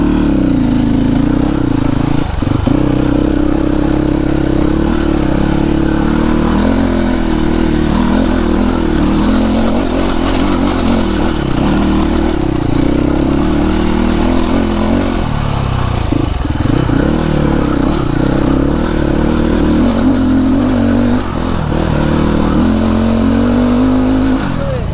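A Royal Enfield Bullet motorcycle engine runs steadily and loud for the whole stretch, its low thumping note rising and falling in brief revs, with no talk over it.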